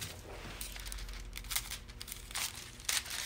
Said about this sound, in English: the excitement of watching me cut a piece of foil